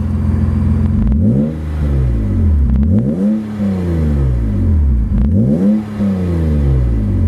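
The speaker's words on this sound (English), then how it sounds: "I'll rev the engine a couple times so you can listen to it." Supercharged 1997 BMW E36 M3 coupe engine revving in a few repeated surges, rising and falling pitch sweeps, loud and close, with no talking.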